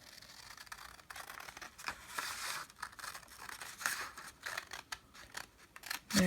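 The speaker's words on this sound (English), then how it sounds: "I now give this a cut, just a straight line" Scissors cutting paper along a straight line, a close series of crisp snipping and slicing strokes in an uneven rhythm, with no talking.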